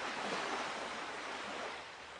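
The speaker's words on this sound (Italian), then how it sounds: "Le onde piano piano calarono e il mare ritornò calmo." Sea waves after a storm, a steady broad wash of surf and rushing water that holds even and then eases slightly toward the end, with no voices.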